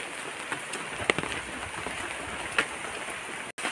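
Monsoon rain falling on a village farm garden near mango trees, a soft steady patter with a few louder drips and a brief dropout near the end, faint and without voices.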